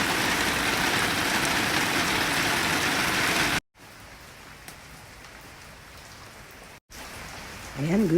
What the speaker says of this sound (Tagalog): Sobrang maulan ang panahon ngayon guys.